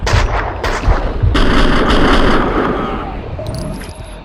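Heavy, sustained gunfire in the shooter Max Payne 2, with dense overlapping shots and bangs close and loud, and a few sharper cracks early on before the barrage fades slightly.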